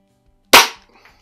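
A single sharp crack from a Benjamin Trail NP nitro piston break-barrel .177 air pistol, loud and close, decaying quickly with a faint pellet impact just after.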